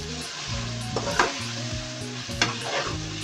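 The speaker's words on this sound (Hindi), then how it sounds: "इसको हिला लें अच्छे से मिक्स कर लें" Spiced chicken masala sizzles in a pan while a spoon scrapes and stirs it in a few distinct strokes, close and fairly quiet.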